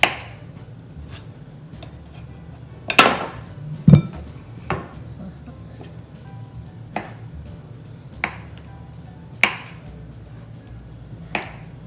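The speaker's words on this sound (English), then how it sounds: "So just slice the butter and mix it with that one with your nutmeg" Knife slicing butter for a crumble, a series of sharp, separate cuts against a board spaced a second or two apart, heard close and alone.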